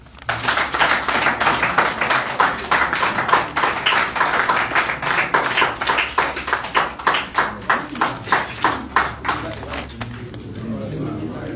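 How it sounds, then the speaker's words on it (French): Rally crowd clapping in unison at a political party gathering, loud rhythmic synchronized claps that keep a steady beat for about ten seconds before breaking off into scattered murmur. "Je crois que les applaudissements ne sont pas assez nourris."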